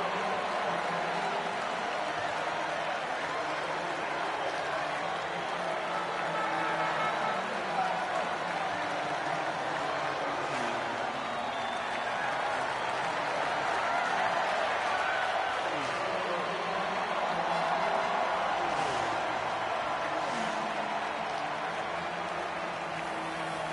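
Crowd applause and cheering from the grandstands at a MotoGP 24 video game podium ceremony, a steady broad wash of clapping lasting throughout, with a busy voice-like crowd murmur mixed in.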